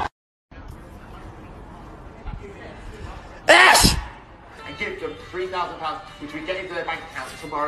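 A single loud, sharp sneeze bursts out over ongoing background chatter and speech noise, followed by more talking.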